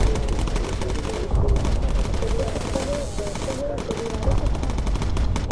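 Rapid, sustained machine-gun fire from bomber gunners in Bomber Crew, loud and close, rattling continuously with a humming aircraft drone underneath and short dips in the bursts.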